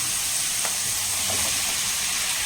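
Tomato dropped into a pan of sizzling ginger garlic paste for a restaurant-style lunch dish, a steady close frying hiss with a couple of brief soft splashes as it goes in.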